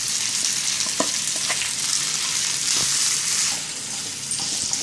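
Finely grated potatoes fry in a pan with roasted spices for kachchi dabeli filling, producing a continuous close sizzle dotted with light taps and stirring clicks.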